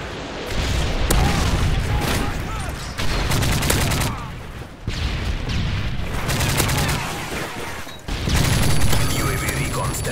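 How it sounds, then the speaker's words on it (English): Rapid gunfire and explosions in online Call of Duty MW3 multiplayer gameplay, including a Predator missile strike, come in loud, dense bursts separated by short lulls, with faint in-game voices. "Friendly Predator missile inbound."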